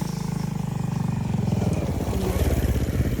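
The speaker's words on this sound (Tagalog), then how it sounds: "may motor." A motorcycle passes close by on a mountain road, its engine a loud, rapid rhythmic putter that shifts in pitch as it goes.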